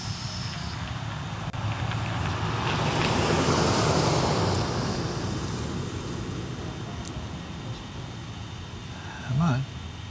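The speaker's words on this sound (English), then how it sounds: "Yep, there's a car coming." Car approaching along a road, its broad tire and engine rumble swelling to a peak then easing away, with steady hiss beneath and a brief sharp sound near the end.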